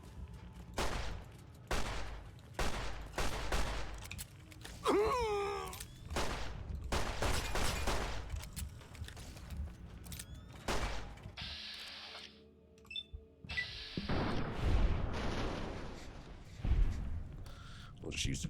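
Gunfire in Fallout: New Vegas comes as sharp, close shots in quick irregular bursts across the whole stretch, interrupted by brief pauses and other game effects, with someone talking over parts of it.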